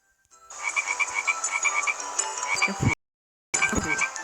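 A frog croaks in a video game, a rapid run of loud, clear croaks that cuts off abruptly, a brief silence, then croaking resumes, heard alone without talk.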